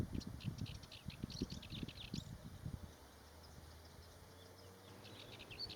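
A male Cyprus warbler sings from an exposed perch, a series of quick scratchy chattering bursts lasting about three seconds, then fading into quiet outdoor ambience with faint distant birds.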